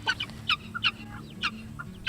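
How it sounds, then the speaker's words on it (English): Harsh, rhythmic guinea fowl calls, repeated shrill chattering bursts close by, with a low steady hum underneath. "the guineas are so loud."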